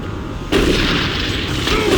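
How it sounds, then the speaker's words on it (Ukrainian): An explosion in the video game Doom 3 hits as a sudden loud boom with a low rumbling tail that holds steady, coming right after a quieter stretch of game sound. "Ой, тут щось вибухнуло."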